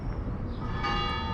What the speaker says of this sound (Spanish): Oh, perdonad, las campanas ahora.